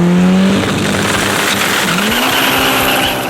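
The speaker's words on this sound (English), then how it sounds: "Now it's time for Dom in the 4AGE powered Beetle to race Graham in the X5M with NOS." A 4AGE-powered VW Beetle races a BMW X5M running NOS, loud roaring engines at full throttle with a shifting engine tone and tire noise, close and continuous.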